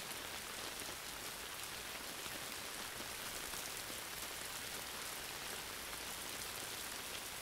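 Steady rain falls on surfaces in an even, dense hiss with no pauses, soft and constant throughout without any voices.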